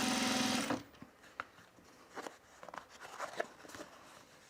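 A sewing machine stitches waxed cotton bag fabric in a short, fast, whirring burst lasting under a second, then stops and leaves faint clicks and fabric-handling sounds at close range.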